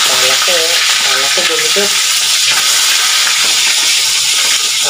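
Loud, dense sizzling of food frying in a pan fills the scene continuously, with a steady hiss and crackle while a voice talks briefly over it early on.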